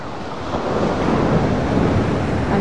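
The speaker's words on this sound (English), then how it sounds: "So here we are at Babbacombe Beach on this glorious early June day." Surf washing onto the shore at Babbacombe Beach in South Devon on a bright early June day: a steady, close, broad rush of breaking water with a little wind, no voices.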